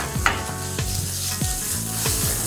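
Monkfish sizzling in a pan of Szechuan sauce, a steady close frying hiss with a few sharp crackling bursts spaced through the short stretch, no voices.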